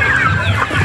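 A chicken gives a brief, close cluck, a single short burst of hen vocalizing.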